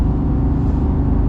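A Porsche accelerating on a wet track at Magny-Cours, heard as a loud, steady low engine drone from inside the car, continuous and unbroken.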